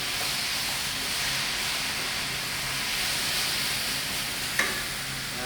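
Steady, close sizzling of vegetables, including butternut squash, frying in a pan for a curry, a continuous crackling hiss with one brief sharper clink partway through.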